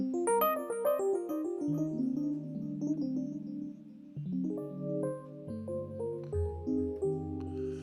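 A bright, bell-like electric piano tone plays a flowing melodic phrase over lower sustained notes, clean and close, with no voices.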